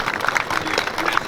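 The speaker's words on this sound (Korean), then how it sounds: "다시 한번 박수 한번 보여주시기" Brief applause from attendees at a press conference held in protest over a workplace serious-accidents law, a short dense burst of many hands at moderate distance, with faint voices mixed in.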